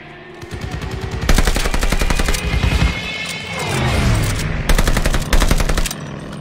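Rapid automatic gunfire from a Call of Duty battle at Midway rattles in loud sustained bursts, with short pauses between volleys and heavy combat noise underneath.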